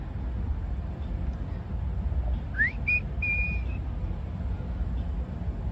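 A person's short rising whistle followed by two brief steady whistled tones, faint over a constant engine-like rumble outdoors in downtown Miami at night.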